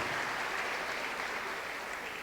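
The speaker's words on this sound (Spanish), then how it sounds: "Un aplauso para Kimberly" Audience applause at a prayer breakfast, a steady even wash of clapping at moderate, somewhat distant level throughout, with no voices standing out.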